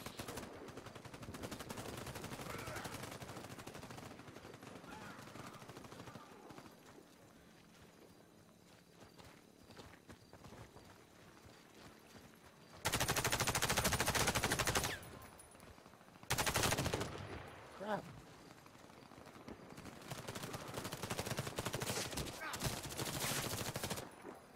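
Sniper and machine gun fire in a Warface team deathmatch, with scattered shots and movement early on, then loud bursts of automatic fire around the middle and near the end, without speech.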